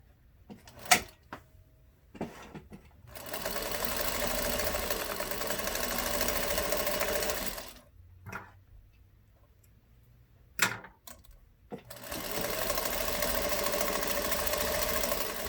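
A sewing machine stitches a fabric collage hat in two long steady runs, separated by quiet stretches with clicks and knocks from handling the work.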